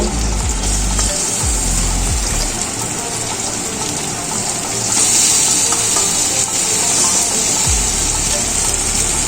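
Marinated baim (spiny eel) fish pieces going into a pan with lightly fried potatoes and tomatoes, a steady loud gushing, watery sizzle throughout with a few low knocks, no talk.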